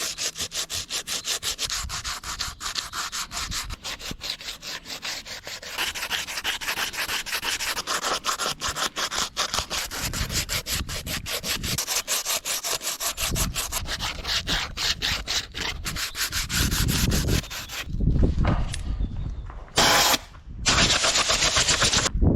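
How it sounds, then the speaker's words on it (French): Continuous rough rasping of coarse-grit sandpaper scrubbing an engine part from a C20XE engine, loud and close with steady back-and-forth strokes, pausing briefly near the end. "Je vais venir poncer d'abord avec du gros grain."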